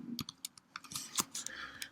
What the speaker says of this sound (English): So we'll type that in on record saved.